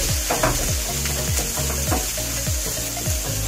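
Garlic goes into a pan of frying onions for squid adobo, setting off a loud, continuous sizzle with repeated stirring scrapes of a utensil against the pan.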